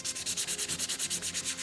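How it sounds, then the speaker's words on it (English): A sword pommel of roughly one and a half pounds is sanded in quick, even back-and-forth strokes, a close, steady rasping rhythm with no talking. "The part that I'm sanding right now."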